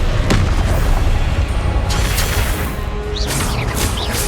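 Loud spell explosions from the Confringo fire spell in the Hogwarts Legacy video game, a heavy boom followed by crashing blasts and crackling debris in a continuous dense barrage.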